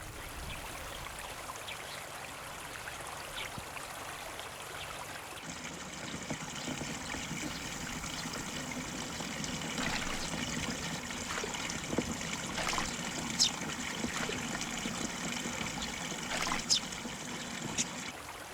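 Water trickles steadily along a mountain creek lined with wild water dropwort, a continuous soft babbling with scattered splashes and drips, close and fairly quiet with no voices.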